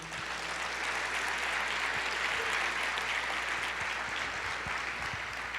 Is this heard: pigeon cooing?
no